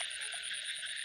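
A frog croaks in a repeated rapid rhythm at night during rain near a fishing spot, the calls steady and fairly faint against a constant high insect-like drone and wet background, with no talk.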